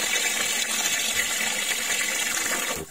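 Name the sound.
water filling plastic tank until float ball valve shuts off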